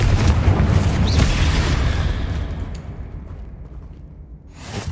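A Confringo fire-blast spell from Hogwarts Legacy lands as a loud, close, booming burst, then a long rumbling roar that fades over several seconds, with no talk over it.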